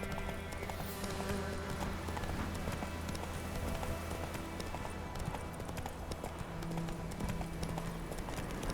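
Hooves clip-clop in a steady, rapid rhythm as the horse Roach gallops in The Witcher 3, played at moderate volume over a dense game soundscape.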